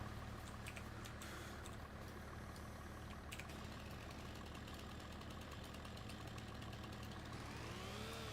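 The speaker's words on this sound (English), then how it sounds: "I can leave the engine running." A car engine left running at idle, a low, steady, quiet rumble that holds evenly throughout with no talking.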